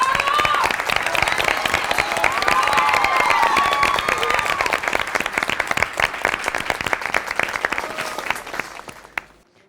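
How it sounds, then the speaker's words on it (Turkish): Loud, sustained applause from a studio audience at the third final of a Turkish TV singing competition, with cheers and whoops riding over dense clapping that fades out near the end. "Bir alkış alalım mı?"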